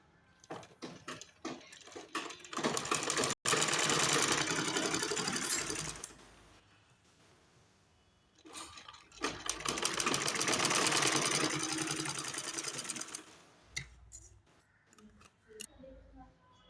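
A sewing machine runs in two long, fast bursts while stitching all the way around a pajama waistband, with a pause and faint handling noises between runs.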